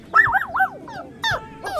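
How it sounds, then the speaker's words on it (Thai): A puppy in an animated story gives a burst of high, warbling yips and whimpers, then two more short yelps after a brief pause, all close and clear, with no talking. "ทว่าภายนอกกลับมีเพียงเสียงเห่าจากลูกสุนัขตัวหนึ่งเท่านั้น"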